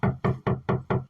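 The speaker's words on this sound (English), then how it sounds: "officers will attempt to knock on your door" Police officers rap on a residential front door, five firm, evenly spaced knocks in quick succession, close and clear with no talking.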